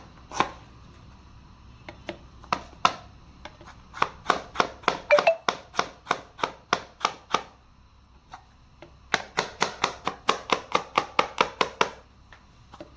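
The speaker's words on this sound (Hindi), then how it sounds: "ये हम अपनी थोड़ा सा गार्लिक जो इसको चॉप कर लेंगे।" Garlic roughly chopped with a knife on a board, quick rhythmic clear knocks in two bursts of a dozen or more strokes each, close and crisp with short pauses between.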